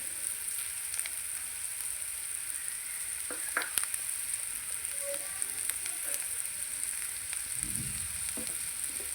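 Ingredients for a radish curry fry in a pan with a steady, soft close-up sizzle, broken by a few faint taps and clicks of stirring.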